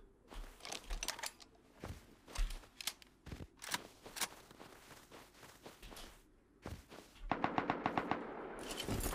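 Rapid automatic gunfire from the survival video game Rust, loud bursts of sharp cracking shots in quick succession with short pauses, ending in a dense fast-firing volley.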